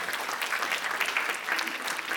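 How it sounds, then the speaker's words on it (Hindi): Audience clapping steadily at a Hindi award ceremony in Delhi, a dense, even wash of applause filling the whole stretch without any voices. "आप लोग ताली बजाते रहिए।"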